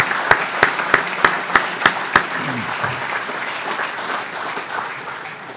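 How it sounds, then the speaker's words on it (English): Applause from a Hall of Fame banquet audience, opening with about eight sharp, evenly spaced claps that ring out loud and close, then settling into a steady, softer wash of clapping from the crowd. "Let's give them a warm round of applause"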